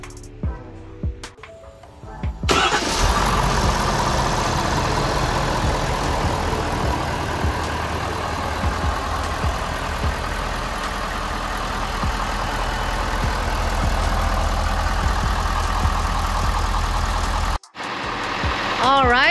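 A Super C RV engine cranks over and settles into a steady, loud idle after an oil change, a continuous mid-pitched drone with a faint ticking, and the sound cuts briefly near the end before resuming.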